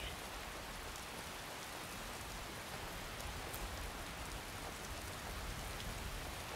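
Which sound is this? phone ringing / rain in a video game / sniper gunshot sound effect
rain in a video game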